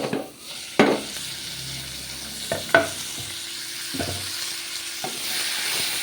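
Tomatoes and onions frying with small pieces of cinnamon in a pan, a soft steady sizzle broken by a few sharp clanks and scrapes of a spoon against the pan, close up with no talk.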